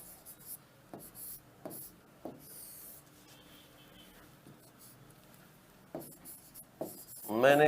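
Words written on a board during a Hindi grammar lesson on sandhi, with short scratchy strokes in bursts across the clip, fairly close and moderately quiet, with no talk over them.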